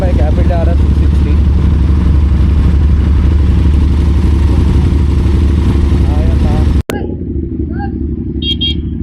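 An Aprilia RS 660 motorcycle engine runs with a loud, steady rumble close by, then abruptly cuts to a quieter idle-like hum with faint higher sounds; a voice talks over the engine.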